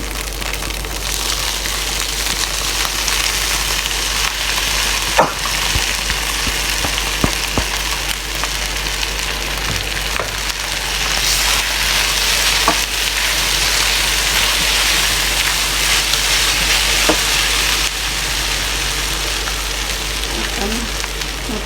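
Noodles frying in hot oil in a pan, a dense, steady sizzle and crackle throughout with a few sharp clicks, close and fairly loud.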